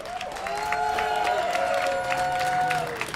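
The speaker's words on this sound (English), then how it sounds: "I want to give a huge round of applause to all the organizers who put this incredible event together" A crowd at a Hands Off Assange rally in Washington, DC claps and cheers steadily, with voices whooping and calling out over a continuous bed of applause.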